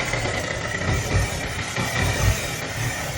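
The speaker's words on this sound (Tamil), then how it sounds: "இப்போ வண்டியை ஸ்டார்ட் பண்ணுறோம். வண்டி ஆன் ஆகிடுச்சு." A modified motorcycle engine idles close by in a repair shop, a steady, loud, rumbling chug with slight pulsing throughout and no voices.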